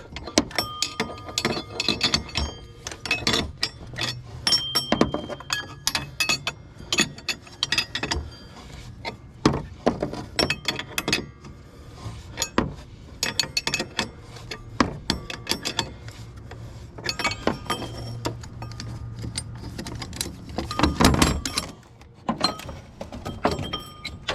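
Mechanic's wrench and metal clanks while removing a power steering pump pulley on a 1995 Ford F350 with a 7.3 Powerstroke diesel: irregular close knocks, taps and rattles in quick bursts, no talk.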